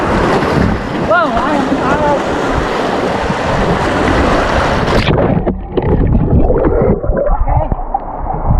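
Loud rushing white-water rapids roar around someone floating feet-first downstream, with heavy wind buffeting the microphone and continuous churning splashes throughout.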